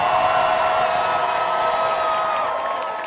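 A live audience at a pun tournament final round cheers loudly and applauds in a steady, dense roar that holds for a few seconds and eases slightly at the end.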